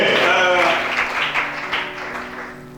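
A church congregation claps during a worship service, the applause fairly loud and close, fading slightly, mixed with voices and sustained musical tones beneath.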